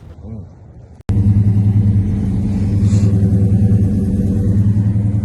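A 1995 Saleen Mustang, freshly repainted, drives with a loud, steady low engine drone that kicks in abruptly after a second of quieter rumble and holds strong, close up.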